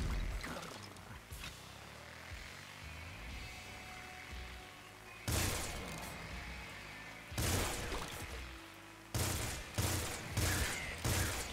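Gunfire in the video game Nuclear Throne comes in a couple of sharp bursts of rapid shots, with quieter game noise between them.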